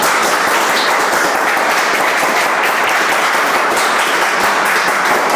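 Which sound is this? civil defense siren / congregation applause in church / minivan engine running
congregation applause in church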